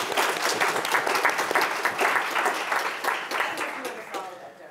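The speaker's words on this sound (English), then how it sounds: "let's applaud that" An audience at a panel on AI and music applauds, a dense, lively round of clapping that stays strong and eases slightly toward the end, with some voices in the crowd.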